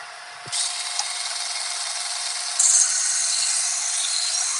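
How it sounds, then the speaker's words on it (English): A very dull knife gets a 20-degree bevel ground onto it on a powered sharpener, a steady, bright abrasive grinding hiss running continuously and growing slightly louder partway through, with no talk. "I'm putting a 20-degree bevel on this knife"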